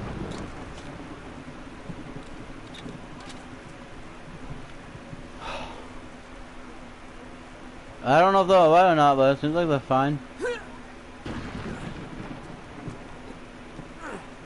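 Video game rain from Uncharted 2 patters steadily with low rumbling thunder under someone talking, while a loud burst of tonal game sound briefly rises over it in the middle.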